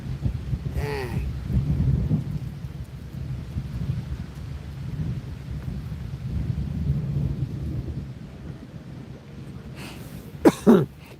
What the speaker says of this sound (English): You probably can't even hear me when it blows like that